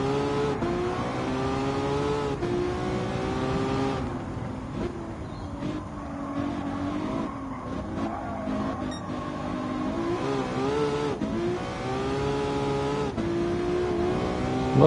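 A car in the Gran Turismo 7 video game, unupgraded and on sports hard tyres, its engine revving and droning continuously with repeated rises and drops through gear changes, close and steady throughout.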